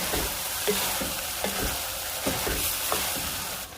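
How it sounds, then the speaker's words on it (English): Potatoes and beef sauté in a pan, a constant dense sizzle overlaid with periodic scraping stirs about every half second to second, close and steady; no voices. "I'm going to continue to brown and saute everything for another 5 minutes"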